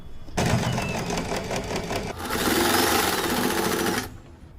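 Loud, close sewing machine stitching elastic onto a newborn baby cap, a rapid steady needle clatter that runs for about four seconds, picks up slightly midway, then stops.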